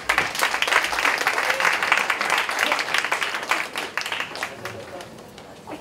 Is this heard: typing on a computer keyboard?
no